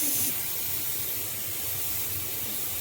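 Green chilies and cumin seeds frying in oil in a pan give off a steady, moderate hiss with a brief louder burst at the start, then an even sizzle with no talking.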